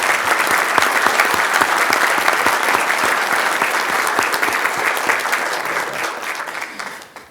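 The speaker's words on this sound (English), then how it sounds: "We can applaud." Sustained applause fills a county board of supervisors meeting chamber as an award recipient is called up, loud, dense clapping with sharp individual claps that slowly fades out after about seven seconds.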